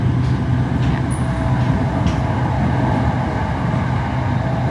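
A Bangkok Red Line electric train running between Bang Son and Bang Bamru stations gives a steady rolling rumble with a low hum and occasional high squeals, heard from inside the car without talk.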